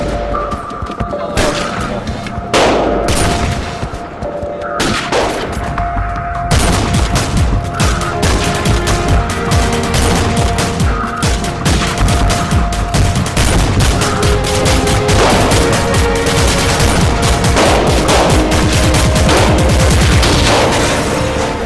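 Gunfire at an outdoor shooting range, shot with a faulty rifle that keeps jamming, cracks out loud and nearly continuous, single shots and rapid volleys overlapping with other shooters' fire.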